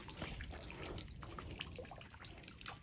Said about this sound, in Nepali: यही धारा हो हाम्रो।